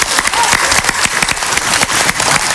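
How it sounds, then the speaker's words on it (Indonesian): A studio audience on an Indonesian television reality show applauds the jury, a dense, steady burst of clapping filling the room throughout, with faint voices mixed in. "tepuk tangan yang meriah untuk dewan juri malam ini"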